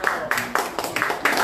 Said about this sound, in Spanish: fuerte las palmas, fuerte las palmas